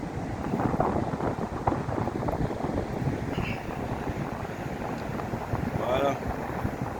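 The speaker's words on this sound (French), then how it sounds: "je suis désolé pour le vent" Strong wind buffets the microphone in loud, rumbling gusts on a beach after a storm, with muffled voices and faint chirps buried underneath.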